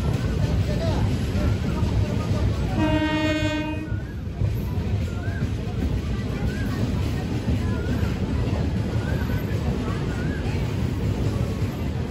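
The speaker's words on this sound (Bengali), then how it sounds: "উলুবেড়িয়া স্টেশন থেকে 1 মিনিটের মাথায় কিন্তু ট্রেনটা ছেড়ে দিল" The Tamralipta Express pulls away from Uluberia station with a short, loud horn blast, followed by a steady rumble of carriages and ambient noise.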